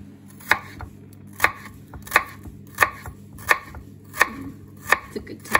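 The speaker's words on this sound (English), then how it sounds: "I think you're getting kind of quite good at this chopping, or this finely chopping" Onion finely chopped with a sharp knife on a cutting board, sharp regular knocks about every two-thirds of a second, close and steady, with a faint low hum beneath and no talk.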